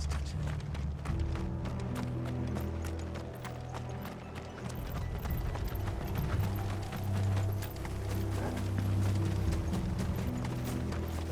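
Horses galloping in Final Fantasy XVI, a steady drumming of hooves under low rumbling game ambience, continuous and fairly loud throughout with no voices.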